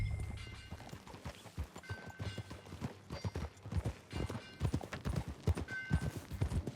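Horse hooves clip-clopping at a riding pace in Red Dead Redemption 2, a steady rhythmic trot close by with an occasional whinny and faint game ambience.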